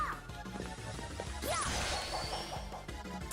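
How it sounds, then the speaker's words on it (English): A sharp smash as a charged attack breaks an enemy's armor in Gurumin: A Monstrous Adventure, one crisp crash with whooshing effects amid quieter game sounds. "We smashed his armor, and now that allows us to defeat him."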